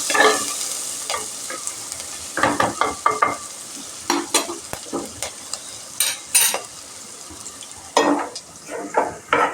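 Onions sauté in a pan with a soft background sizzle, broken by frequent scraping and clinking strokes of a spatula stirring against the metal in irregular bursts, close and clear, with no talking.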